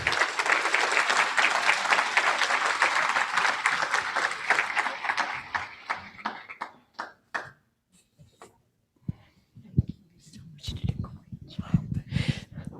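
A conference audience gives dense applause that fades after about six seconds into scattered individual claps, with murmured talk and voices underneath.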